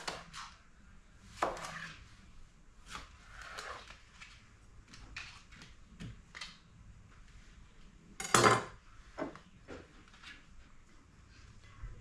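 Cucumber slices for refrigerator dill pickles being packed into glass jars in a kitchen: scattered clinks, knocks and brief scrapes at an uneven pace, close by, with one louder clatter partway through and no talking.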